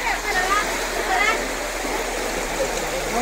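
Floodwater rushes through village streets after sudden rain, a continuous loud churning roar like a stream, with a voice heard over it.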